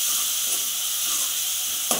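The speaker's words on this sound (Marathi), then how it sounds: "मी इथं लसूण, मिरची आणि जिरं बारीक केलेलं आहे, आपण हे तेलामध्ये चांगलं परतून घेऊया" Garlic, green chili and cumin sizzle in hot oil with a steady bright hiss, loud and close, a small pop near the end.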